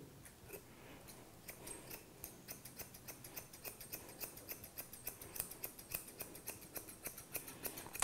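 Grooming scissors cut a small-breed dog's fur in a puppy-style trim, making rapid, regular metallic snips close by that speed up into an even rhythm, with no talking.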